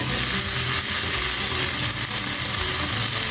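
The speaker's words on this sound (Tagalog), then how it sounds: "stir fry lang po natin yung chicken fillet saka yung ating garlic at saka ginger" Chicken fillet stir-frying with garlic and ginger gives a loud, steady sizzle with continuous hissing and faint stirring, close and uninterrupted.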